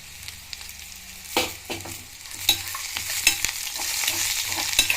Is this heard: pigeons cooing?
no